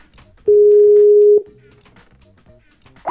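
A single loud steady telephone ring tone lasts about a second during an unanswered call in a Minecraft session, followed by quiet low background sounds and a short rising sound at the end.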